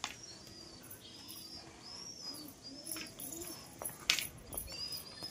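Pigeons in a home loft feeding their chicks, soft low cooing mixed with faint chirps and scattered flutters and scuffles, fairly quiet and close with no talking.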